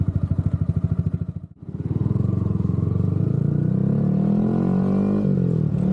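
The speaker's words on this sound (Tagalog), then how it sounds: "Grabe ang base ng tunog at ang smooth niya i-drive, iba talaga ang gawang Yamaha. Ganda din pala ng tunog ng Villain Pipe" A Yamaha R15M motorcycle with a Villain exhaust pipe runs close by, a loud pulsing throb that briefly cuts out, then rises into a steady rising rev.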